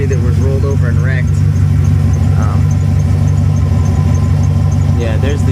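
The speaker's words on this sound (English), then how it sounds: "I think what makes the exhaust sound so good is that there's straight pipes all the way back" A V8-swapped Mazda RX7 idles through a straight-pipe Magnaflow exhaust, giving a deep, loud, steady rumble close by while people talk over it.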